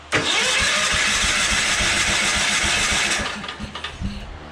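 A John Deere 317 tractor engine cranks over with a spark plug removed, throttle and choke wide open, a loud close rapid chugging rhythm from the starter for about three seconds before it stops.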